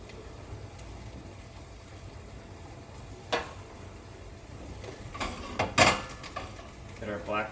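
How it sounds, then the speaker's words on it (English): Apples sizzle faintly in a pan over medium heat in the background, with a few sharp clinks and scraping sounds of utensils against cookware near the end. "Listen to that sizzle."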